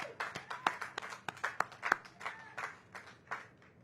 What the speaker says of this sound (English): Can we give a round of applause to Black-owned and minority-owned businesses?